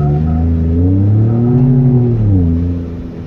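Turbocharged car accelerating, a loud close engine drone rising steadily in pitch and then easing off near the end.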